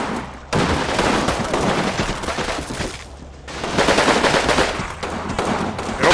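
Machine gun fire in the Combat Mission war game, two long loud bursts of rapid rattling shots separated by a short lull.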